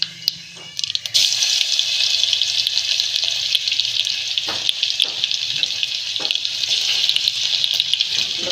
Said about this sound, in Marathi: लसूण भाजून घ्यायचे छानपैकी. लसूण भाजतोय छान असा.